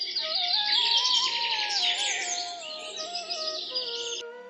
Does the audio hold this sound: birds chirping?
yes